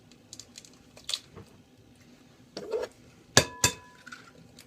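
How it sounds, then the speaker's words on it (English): Eggs are cracked against a bowl rim for tie-dye cake batter, giving several sharp knocks and clinks with soft squishy shell and liquid sounds between them, close and fairly loud. "So you gotta crack the eggs."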